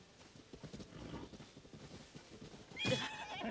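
A single horse whinny from The Legend of Zelda: Tears of the Kingdom rings out near the end, a high wavering neigh over a busy background of low rumbling and clatter.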